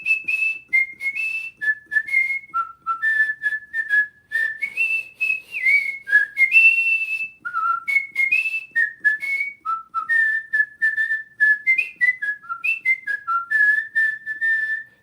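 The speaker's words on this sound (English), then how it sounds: "That was me whistling Revelry." A man whistles the bugle call Reveille, a clear solo melody of short and held notes with leaps up and down, close and loud with no other sound.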